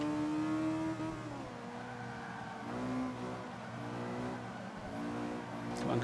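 A 1997 Honda Civic converted to rear-wheel drive in Forza 5 revs its engine in rising and falling sweeps, fairly quiet with small tire squeals, under occasional voice.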